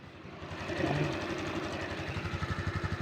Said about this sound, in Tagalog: So, umaandar na yung makina.